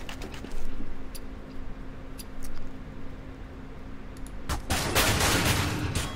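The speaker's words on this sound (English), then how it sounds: "WinD comes with a Tech 9 and just destroys Nightfly." Tech 9 pistol gunfire in a Counter-Strike match, heard as scattered sharp shots over steady game background noise, building to a loud dense volley of rapid fire in the final seconds.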